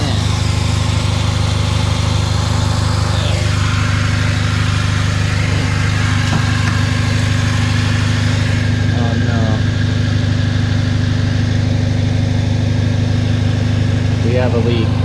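A 2003 Chevy Cavalier four-cylinder engine idles steadily and close by with a constant low hum, while people talk intermittently over it.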